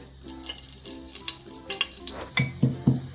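Oil poured into a pan for tempering, with soft liquid trickles and clinks followed by a few sharp sizzling bursts near the end, close and quiet with no talking.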